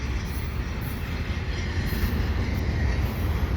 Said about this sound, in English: This is a westbound freight